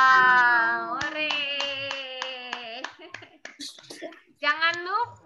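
A young child chants a Tepuk Yesus clapping game over a kindergarten video call, with a run of sharp, regular claps under the sung voice, a pause, then the chanting resumes.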